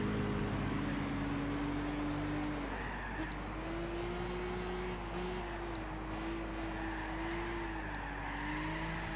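A race car in Gran Turismo 6 holds a steady, droning engine note that rises and falls gently through the gears, with faint tire noise underneath, heard alone without talk.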